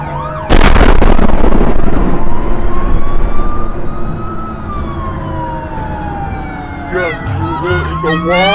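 A loud police car explosion bursts out abruptly, followed by a wailing emergency siren that sweeps up and down for several seconds, then a different, faster siren pattern takes over near the end.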